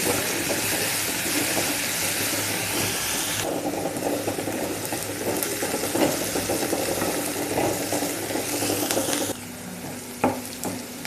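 Chopped onion frying in oil in a pan while being cooked for boiled egg bhurji, a steady loud sizzle with hissing steam and occasional scraping stirs, no talking.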